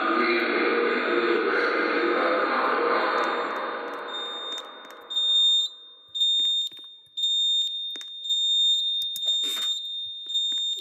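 A building fire alarm sounds during an elevator recall test, a loud sustained tone that fades by mid-clip, followed by a steady high beeping and several short repeating alarm bursts.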